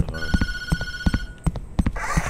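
An old-style telephone rings in the horror game Tattletail, with rapid bell trills coming in quick repeated bursts, loud and close, as a higher electronic chime sounds near the end.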